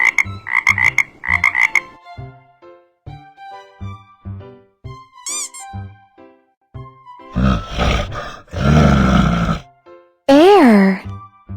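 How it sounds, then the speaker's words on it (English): A frog gives a few quick, raspy croaking bursts at the start, loud and close, followed by a long stretch of other animal-like calls and vocal sounds. "Frog."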